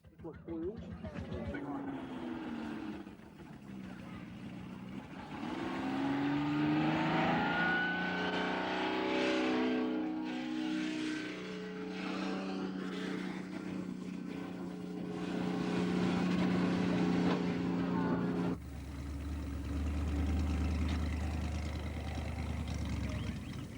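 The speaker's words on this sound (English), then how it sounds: "The name of the game is to pull the mongrel sled further than anyone else in the same class." Jeep engines rev and drone while pulling a weighted sled at a 1984 cross-country club pulling contest, a loud, sustained mechanical roar that rises and shifts in pitch across the run before settling into a lower rumble near the end.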